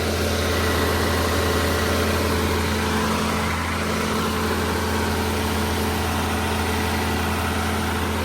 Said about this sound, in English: So just a way to check everything over on the engine.